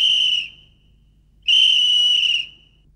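A real Soviet militia police whistle from a 1965 children's film sounds two long, shrill, piercing blasts close by, with a short silence between them.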